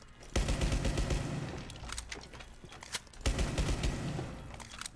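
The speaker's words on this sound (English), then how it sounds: "I'll get somebody with a shotgun to shoot up here" Several loud shotgun blasts go off in a video game set on the Bank map, each a sharp boom trailing into rumbling echoes, spaced a few seconds apart.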